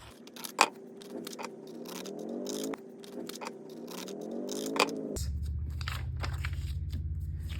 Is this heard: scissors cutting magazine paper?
yes